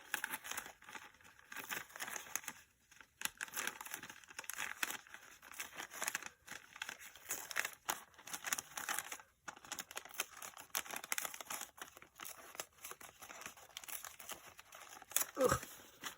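Tissue paper is torn and crumpled for craft tags in a series of soft, irregular crinkling rips close by, quiet and continuous, with a brief voice near the end.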